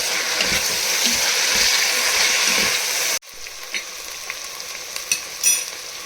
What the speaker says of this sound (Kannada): ಕಟ್ ಮಾಡಿಟ್ಕೊಂಡಿರೋ ಬಿಳಿ ಬದನೆಕಾಯಿ ಹಾಕ್ತಾಯಿದ್ದೀನಿ, ವಾಂಗಿಬಾತ್ ಬದನೆಕಾಯಿ. ಸ್ವಲ್ಪ ಜಾಸ್ತಿ ಏನು ಫ್ರೈ ಆಗೋದು ಬೇಡ, ಸ್ವಲ್ಪ ಫ್ರೈ ಆದರೆ ಸಾಕು.